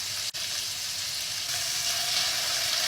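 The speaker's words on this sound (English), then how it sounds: "And now all we have to do is cook our beef patties." Beef patties seasoned with salt, pepper and mustard fry steadily in a pan, giving a continuous loud sizzle and crackle with one brief dip near the start and no talking.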